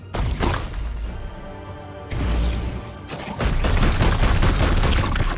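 Heavy gunfire erupts in the Warhammer 40,000: Chaos Gate Daemonhunters video game, with loud, dense bursts of shots and booming impacts in three sustained waves, close and powerful.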